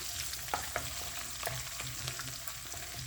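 Ginger, garlic, onion and green chilli paste for egg malai curry fries in a pan, a steady close sizzle broken by a few sharp scrapes and clicks of a spoon stirring it.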